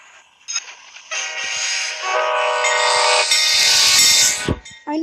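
An Amtrak train horn blares in a Roblox train game, a sustained multi-tone blast that shifts pitch partway through, with a brief click and a short toot at the end.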